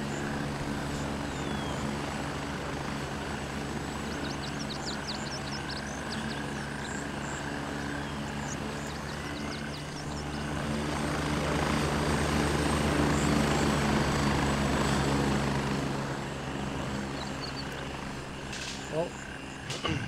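A helicopter in the Ban Pa game drones with a continuous rotor thrum that rises a little midway and then holds steady for the full stretch, with game chatter over it.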